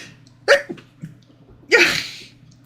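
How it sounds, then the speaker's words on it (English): One sharp, close sneeze bursts out after a few short breathy sounds, with quiet hum in the background. "I'm going to sneeze."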